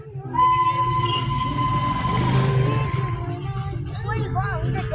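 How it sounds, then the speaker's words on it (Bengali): A toy train rumbles along a hill loop railway in a steady, fairly loud run, with engine drone and faint wheel squeals, while people talk over it. "এই লুপের পুরো গোল হয়ে টয় ট্রেনটা ঘুরবে।"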